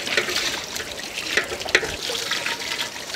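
Water poured over and into washed goat meat for an outdoor whole-goat barbecue, a short splashing trickle with uneven gurgling bursts, close and moderately loud.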